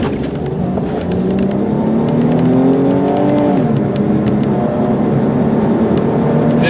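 Green 2002 Saturn L300 four-door sedan accelerating hard from inside, engine note climbing steadily through a gear, dropping at the shift, then pulling again, loud and continuous with road and wind noise underneath.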